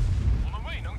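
A tank cannon fires in the World of Tanks video game, giving a heavy low boom that fades quickly as a voice starts talking over it.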